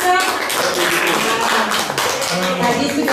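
An audience applauding at a positive-culture dissemination session, a dense patter of handclaps running throughout, with voices talking over it.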